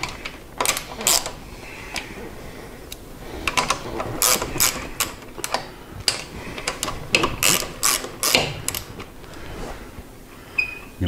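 A wrench loosens 3/4 inch nuts on motorcycle handlebars, making close, repeated ratcheting clicks in short uneven bursts.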